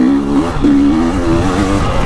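KTM 300 two-stroke dirt bike engine, a 2023 TBI 300XC or 2021 TPI 300XCW, ridden on a woods loop, its loud close revving drone rising and falling as the throttle rolls on and off.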